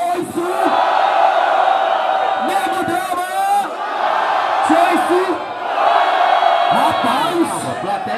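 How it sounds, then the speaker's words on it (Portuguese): Crowd at a street rap battle in São Gonçalo shouting and cheering in loud repeated surges, with whoops and yells rising and falling across the clip. "plateia gritou"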